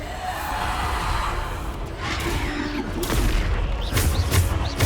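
Bombarda blasting spell in the video game Hogwarts Legacy, a rolling, rumbling explosion that builds into heavy booming bursts with debris crashes, loud and continuous through the clip.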